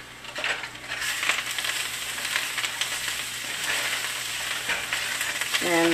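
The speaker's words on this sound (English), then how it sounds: "so the skillet is still hot, and just stir it" Methi muthia are stirred in a hot skillet after the heat is switched off, producing a close, steady sizzle with scraping stirring sounds throughout and no talking.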